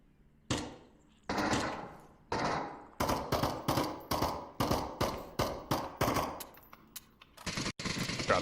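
Gunfire from the virtual reality shooter Onward in a competitive VRML match: a few separate loud shots, then a steady rapid string of sharp cracks and bursts, close and punchy with short gaps between.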